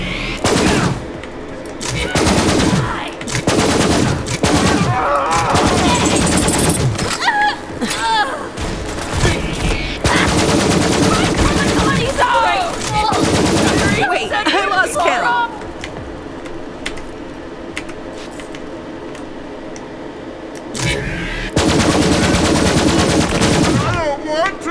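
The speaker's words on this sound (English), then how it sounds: "Apparently it's a machine pistol." A machine pistol fires in Borderlands 3, played as Moze the Gunner. Loud rapid bursts of automatic gunfire repeat in quick volleys with short gaps, and someone talks between and over the shots.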